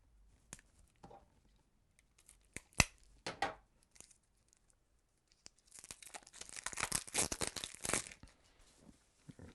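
A deck of cards from the Margraves of Valeria board game is unwrapped: sparse crinkles and a sharp tear of plastic film, then a long burst of loud, close crumpling and crackling wrapper.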